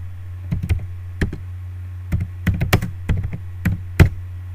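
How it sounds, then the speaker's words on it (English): Sharp, irregular keystrokes clatter on a computer keyboard as a command is typed into a Windows command prompt, coming in short bursts of clicks close up over a steady low hum. "you can go to cmd again and type Cordova"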